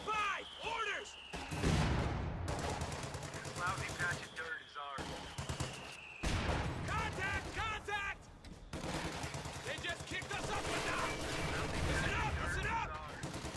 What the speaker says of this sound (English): The machine gun has managed to suppress the paratroopers